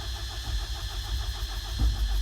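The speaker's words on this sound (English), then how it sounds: "So this time I will start the engine." Diesel engine of a JS220 excavator with a no-start fault turning over and running, a steady mid-pitched idle chugging with a low thump near the end, close by and without talk.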